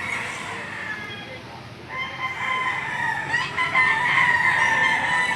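Roosters crow loudly several times, with clucking and other fowl noises in the background of an outdoor chicken market.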